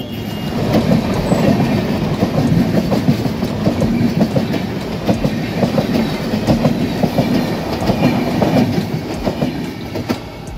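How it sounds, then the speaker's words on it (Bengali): A train rolls past on the rails near a crowded flower-garden valley at Khirai, its wheels keeping up a steady, loud rumble with repeated clickety-clack beats throughout, close by and alone with no talk. "দেখলে এতক্ষণ ধরে কিন্তু ট্রেন কিভাবে গেল"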